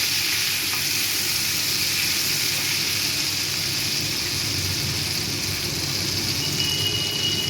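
Ginger-cumin paste frying in a pan makes a dense, continuous sizzle at even loudness, with a low steady rumble underneath and faint scraping from stirring.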